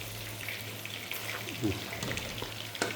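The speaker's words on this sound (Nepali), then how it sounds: "उता चिकन फ्राई हुँदैछ" Chicken fries in a pan for Nepali chilli chicken, giving a faint, steady sizzling hiss over a low electrical hum, with a couple of soft clicks from the pan.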